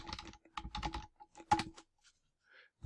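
Quick bursts of computer keyboard typing, light clicking keystrokes in short clusters with brief pauses, close and fairly quiet, with no talking.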